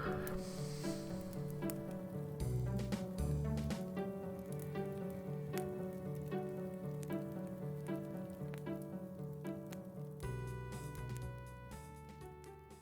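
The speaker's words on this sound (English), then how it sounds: "The mist, wind and rain in the air was fitting of such a place." Wind and rain sweep through Stormsong Valley in World of Warcraft, a steady hiss of rainfall mostly buried beneath a loud, continuous musical score with no voices.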